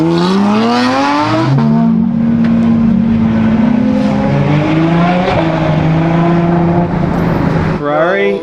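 A Ferrari sports car rolls down a hill in Italy, its engine droning loud and close throughout, with the pitch stepping through several gear changes and a brief rev near the end.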